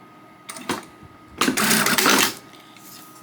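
A home sewing machine stitches fabric for an in-the-hoop frog plush dog toy, a short whirring burst near the start followed by a louder sustained run of rapid stitching lasting about a second, with no talking.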